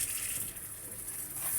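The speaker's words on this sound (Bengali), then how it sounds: "আমি একটু পানি দিয়ে নিই যাতে মশলাটা পুড়ে না যায়।" A splash of water gushes into spices frying in a pan for chicken curry, a short, close, steady pour over faint sizzling.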